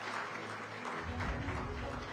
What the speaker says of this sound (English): Let's give a huge round of applause to our speakers and our moderator.